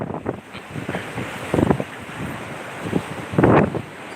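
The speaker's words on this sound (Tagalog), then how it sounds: "Medyo maalon ngayon." Rough sea waves at the shore in Gumaca, Quezon, several heavy surges crashing and washing in at uneven intervals over a constant rush of wind noise.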